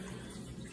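Water running steadily from a bathroom tap, a continuous dense rushing flow, close and fairly quiet, with no voices.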